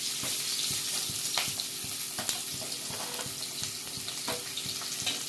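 Chopped onion dropped into hot oil for a sambar masala, a steady close sizzle with faint stirring ticks throughout and no talking.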